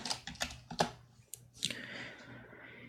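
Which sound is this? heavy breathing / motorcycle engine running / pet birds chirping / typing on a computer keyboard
typing on a computer keyboard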